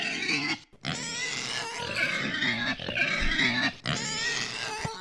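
Pig grunts and squeals from a Minecraft modpack game, several short grunts repeating through the clip with brief gaps, close and fairly loud over a steady game background.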